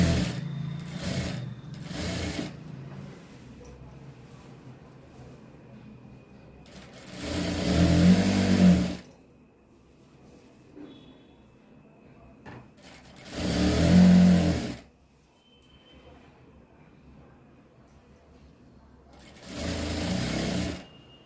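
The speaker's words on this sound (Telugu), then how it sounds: "ఇక్కడ నుంచి లైనింగ్ క్లాత్ అనేది కుట్టుకోవాలి" A sewing machine stitching the lining cloth of a frock, with three loud close bursts of rapid stitching, each lasting about two seconds, separated by quieter stretches of handling noise.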